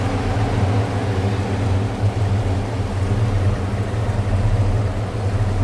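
A 1955 Pontiac Safari Wagon with a 454 engine and Edelbrock parts idling smoothly, giving a steady, close, low rumble that stays even throughout.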